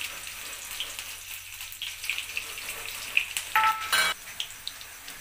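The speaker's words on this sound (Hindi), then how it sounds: "अब मैं डालूँगी इसमें जीरा, और साथ में ये हरी मिर्च।" Cumin seeds and green chili hit hot oil in a wok, giving a faint, low crackling sizzle. A short, louder hiss rises near the end.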